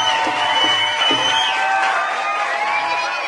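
A large crowd at a live Punjabi concert in Nakodar cheers and claps in a dense, loud roar, with whoops rising above the steady wash of applause.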